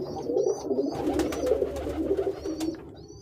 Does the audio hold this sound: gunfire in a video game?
no